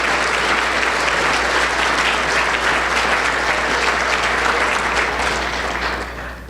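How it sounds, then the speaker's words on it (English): Loud, steady applause from the audience at the Westmont Community Awards Dinner, many hands clapping together continuously and tapering off slightly at the very end. "Please give them a warm round of applause for all the hard work that they do."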